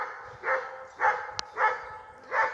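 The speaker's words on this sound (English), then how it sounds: "There's barking dogs." Dogs bark outdoors in four regular barks about half a second apart, moderately near, with a brief sharp click between them.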